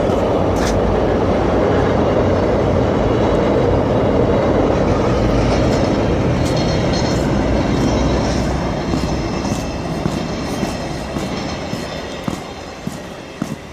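A VIA Rail passenger train rolls past loudly and close at night, a continuous rushing rumble with wheel clatter, slowly fading toward the end.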